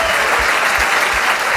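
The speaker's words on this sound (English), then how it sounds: "Let's give him a round of applause" Audience applause after an apologetics debate between Alex O'Connor and David Wood, a dense, steady wash of many hands clapping at a loud level for the whole span, with no break.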